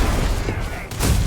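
Booming grenade blasts in the space game Starfield, a loud dense burst followed by a second heavy hit, with game noise throughout.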